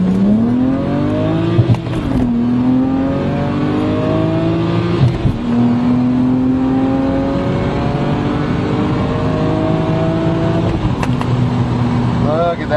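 BMW 135i with an aftermarket standback and turboback exhaust revs hard through first, second and third gears at 6 psi boost. The loud engine note climbs and drops sharply at each of three shifts, with faint voices underneath.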